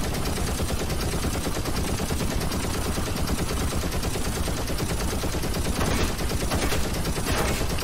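Sustained rapid automatic gunfire from the IGI 2 video game, mission 12 at Zaleb's Stronghold, a loud continuous rattle of bursts filling the whole stretch with no talk.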